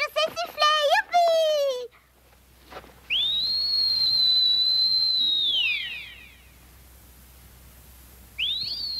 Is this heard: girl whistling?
yes